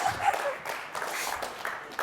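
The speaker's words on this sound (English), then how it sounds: "Golf clap." Scattered, light golf-style clapping from a conference audience, a few soft claps spread over about two seconds, fairly faint and sparse.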